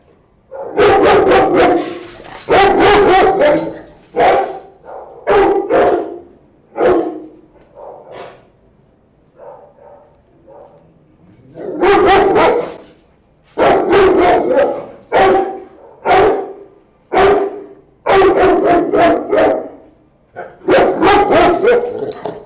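A reactive dog confined in a cage barks at a person walking past, loud close bursts of rapid barks in clustered volleys separated by brief pauses and a few softer yips.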